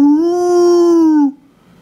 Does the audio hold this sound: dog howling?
yes